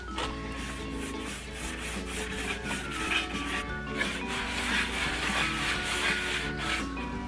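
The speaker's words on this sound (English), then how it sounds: "Using dark wax from Annie Sloan and my dark wax brush." A brush working Annie Sloan dark wax onto wood, a close, steady scratchy rubbing in repeated short strokes over a faint background hum, with no talking.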